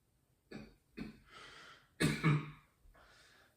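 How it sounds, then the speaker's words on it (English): Coughs and throat-clearing during a low-back breathing exercise, four separate bursts spaced about half a second to a second apart, close and fairly loud against near silence. "You kind of get some coughing sometimes."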